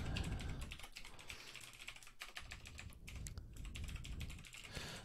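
Fingers tap out a username and password on a computer keyboard, a quiet, close run of rapid, uneven keystrokes with short pauses and no speech.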